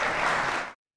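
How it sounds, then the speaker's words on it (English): Brief burst of crowd applause, dense clapping from many hands at steady level for under a second before cutting off abruptly to silence. "Yay, slow clap."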